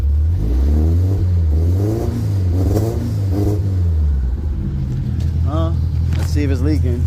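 Engine of a 1972 Toyota Corolla TE28 with carburetor and fuel pump trouble, revving in several quick throttle blips that rise and fall, close and loud, with a voice speaking over the latter part.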